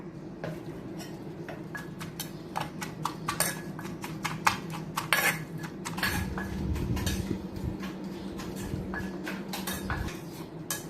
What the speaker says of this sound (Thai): ใส่ เส้นลงไปนะคะคลุกเคล้าเส้นให้เข้ากันนะคะ